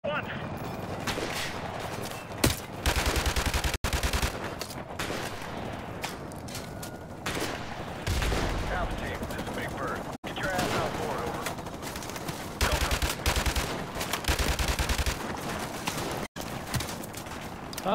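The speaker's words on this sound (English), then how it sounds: "them fucking constantly shooting at me" Gunfire and bursts of automatic weapons in Call of Duty 4: Modern Warfare Remastered campaign combat, dense and loud, with repeated rapid volleys and scattered single shots throughout, mixed with game ambience and a voice talking over it.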